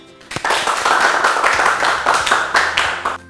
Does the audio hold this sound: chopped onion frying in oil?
no